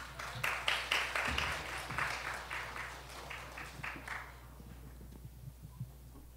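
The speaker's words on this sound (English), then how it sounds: "Please have a warm round of applause for them again." Audience applause at a middle school end-of-year concert, a burst of clapping that swells early, then thins out and fades to scattered claps.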